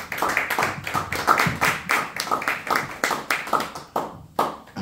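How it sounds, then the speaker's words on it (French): A congregation at a Friday evening church service in Montreal claps in a brisk, regular rhythm, many sharp beats close together with hall echo, lasting several seconds. "Applaudissons pour la parole."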